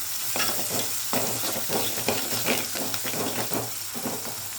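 An egg fries in hot tempering oil spiced with cardamom and cloves, giving a steady close sizzle broken by repeated scraping stirs of a spatula, with no talking.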